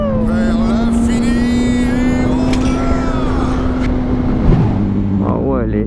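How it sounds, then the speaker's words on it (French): A Lamborghini Huracán engine drones loud and close with a strong steady tone that climbs slightly and then dips near the end, while someone talks over it. "Ah ouais, elle est énervée, sa Lamborghini."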